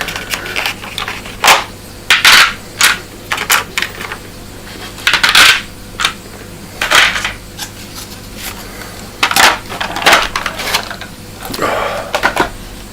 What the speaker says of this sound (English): I gotta get some of the dice out of this tray